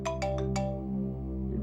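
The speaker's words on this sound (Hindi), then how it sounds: "डीसीपी चित्रो ने मुझे क्यों फोन करा?" A phone ringtone plays up close: four quick, bright melodic notes followed by a sustained electronic tone that fades out.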